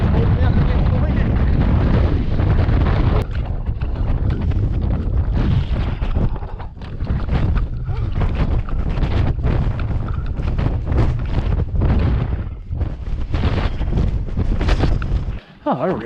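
Strong gusts on a mountain slope batter the microphone, a loud rumbling roar that surges and drops in waves with no break.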